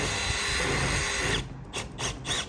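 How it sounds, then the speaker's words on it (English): A power drill bores into a car body, a loud continuous whine for over a second, then stopping and restarting in a few short bursts. "We're now drilling holes in the car."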